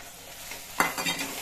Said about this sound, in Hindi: अब हम इसमें मशरूम डाल देंगे